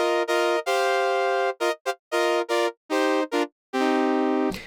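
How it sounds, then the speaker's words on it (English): A basic synth brass patch on a synthesizer plays a run of sustained, bright, buzzy chords and notes, some long and some short and choppy, with clean cutoffs between them and no talking. "That is the bare minimum that you get with a synth brass."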